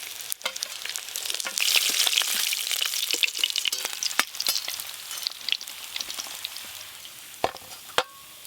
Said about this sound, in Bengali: এই দেখুন মাছগুলো কিন্তু বেশ লাল লাল করে ভেজে নিয়েছি।